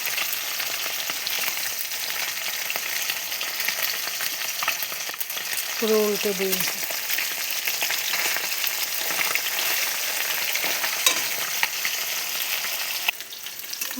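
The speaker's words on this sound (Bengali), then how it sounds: "দেখো মাছ ভাজা হয়ে গেছে" Pabda fish frying in oil in a pan, a steady continuous sizzle with a brief stir or turning clatter partway through, under a quiet voice speaking.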